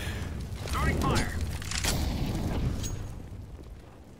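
Incendiary grenade fire in the video game CS:GO, a burst and whooshing blaze that swells, holds, then slowly fades, with excited voices talking over it.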